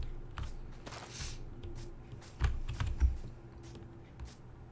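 Computer keyboard and mouse clicking up close during a Minecraft session: quiet, irregular taps with a short burst of louder clicks in the middle, no talking.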